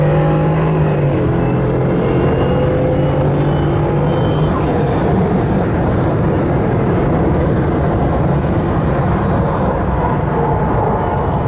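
A 1200 HP Bugatti Veyron Grand Sport Vitesse with a W16 engine runs at speed on the German Autobahn, giving a loud, continuous roar and rushing wind noise that stays steady throughout.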